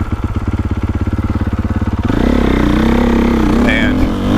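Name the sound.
dirt bike engine running on motocross track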